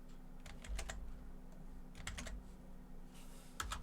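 Computer keyboard being typed on while pasting in code, soft close clusters of keystrokes in short irregular bursts over a steady low hum.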